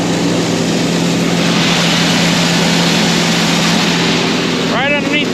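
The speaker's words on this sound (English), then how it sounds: "That's augering corn up here to the grinder." Corn being augered up into a feed grinder for cattle, a steady loud mechanical drone with a constant low hum that runs unbroken throughout, with a brief voice at the end.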